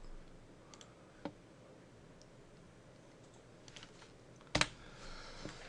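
Quiet clicks and taps on a computer keyboard come in sparse, irregular bursts, with one louder cluster of keystrokes near the end and no voices.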